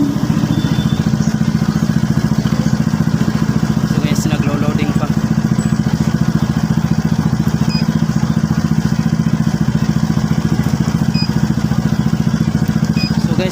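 A Suzuki Burgman scooter engine runs steadily at idle, a constant low drone with a faint rattle throughout, loud and close.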